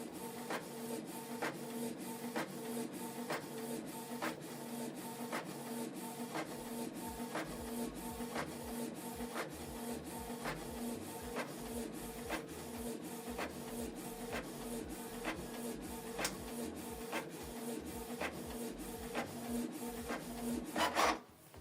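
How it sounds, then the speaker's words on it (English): A Canon Pixma TS3350 inkjet printer prints a page, with a steady mechanical whir and a regular train of soft clicks as the paper feeds, ending in a brief louder clatter. "The second page is printing."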